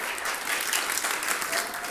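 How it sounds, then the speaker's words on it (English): Steady applause from a church service congregation, many hands clapping together at an even level for a couple of seconds. "let's give them a round of applause for that"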